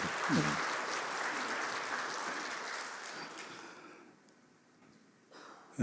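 Church congregation applauding during a Sunday service, a broad wash of many hands clapping that is moderately loud at first, then gradually thins and fades out toward the end.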